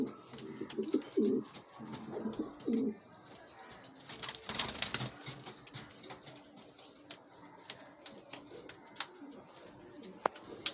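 Pigeons kept at home coo in low, soft bursts near the start, with some rustling and a flutter of wings in the middle, then quieter scattered bird sounds in a room.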